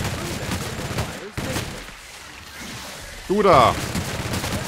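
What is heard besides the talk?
gunfire from a weapon in video game The Outer Worlds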